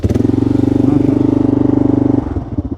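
A small motorcycle or scooter engine running as it is ridden, started without the choke, giving a loud, steady, close putter that drops off near the end.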